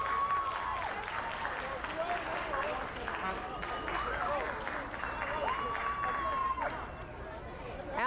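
A crowd at a NASDAQ appearance by Michael Jackson cheers and applauds in a sustained, loud wash of clapping and shouts, with a few whistles and voices rising through it before it eases slightly near the end.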